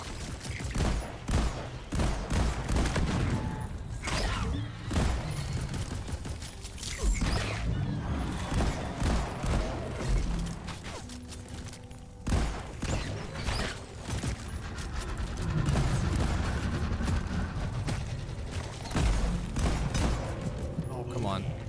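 A sentry turret in Deep Rock Galactic fires in dense, continuous bursts of rapid gunfire, mixed with mechanical clatter and other battle noise, while a player talks over it throughout.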